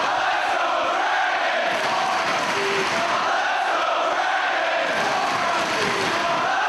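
A dense, sustained roar from a wrestling crowd at a Ring of Honor event in Chicago, steady and loud throughout with no clear breaks.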